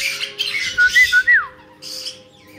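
Pet bird squawking indoors, with one loud rising squawk followed by a few shorter chirpy calls, then a second burst of harsh squawking near the end, close by and clear.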